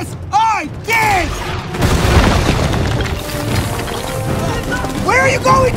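Airstrike explosions boom and rumble through a battle scene in The Mummy (2017), loud and sustained, with panicked shouts and screams rising over the blasts at the start and end.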